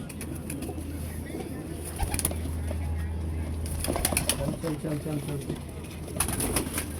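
Pigeons coo softly and repeatedly amid rustling and flutters, with a low steady hum underneath and occasional clicks nearby.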